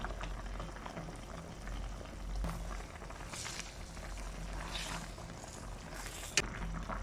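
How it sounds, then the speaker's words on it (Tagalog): Sinigang broth with blue marlin boiling hard in a pot, a steady close bubbling roil with a brief sharp clink near the end and no talk. "Ayan, kulong-kulo na siya."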